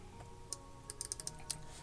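Quiet typing on a computer keyboard, a scattered run of soft, light key clicks at an uneven pace over a low steady hum, with no talking.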